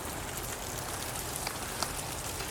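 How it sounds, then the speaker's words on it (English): Ice falling from trees after an ice storm: a dense, steady patter of small icy pieces hitting the ground and branches all around, like heavy rain, with a few sharper ticks standing out. "there's ice falling off the trees"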